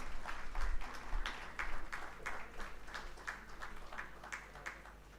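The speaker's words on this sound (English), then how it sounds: "A big round of applause for the floral welcome of our guest." Audience applause at a medical conference marking a floral welcome for the chief guest: soft, steady rounds of clapping from a hall crowd, fairly distant and quiet, fading slightly toward the end.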